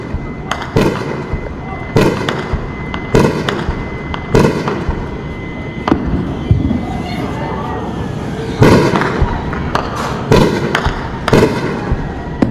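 Explosions of Pakistani missiles being intercepted over Jammu during a blackout: a string of sharp, loud booms and cracks at irregular intervals, some near and some more distant, with voices talking underneath.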